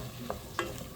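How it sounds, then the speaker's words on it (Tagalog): Ginisang pechay with pork and shrimp being stirred in a pan, with soft sizzling and two brief scrapes of the spatula over a low frying hiss. "Haluin."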